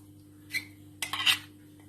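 A spoon mixing ground balloon vine leaf paste into dosa batter in a bowl gives two brief, quiet clinking scrapes close by, one short and one slightly longer, with no voices.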